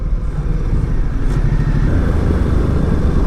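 A 2018 Ducati Multistrada 1260S in sport mode on a test ride, its engine a steady loud drone under heavy wind rush, close and continuous with no clear revving.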